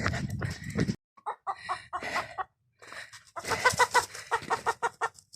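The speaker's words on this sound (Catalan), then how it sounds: "S'ha escapat un gall!" A loose hen on a farm path clucks in short repeated bursts, fairly close and loud, with a pause after an opening noisy burst and a busier run of clucks toward the end.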